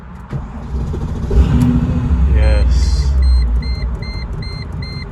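A car engine cranks and catches after refuelling, rising into a steady idle with a rumble, while a voice talks briefly and a few high electronic beeps chime afterward.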